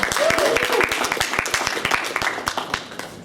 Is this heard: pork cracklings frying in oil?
no